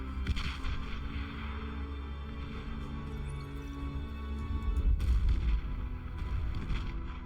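Light artillery units fire in the real-time strategy game Beyond All Reason, a steady run of low booming shots and rumble rolling on continuously, with a heavier burst of blasts near the end.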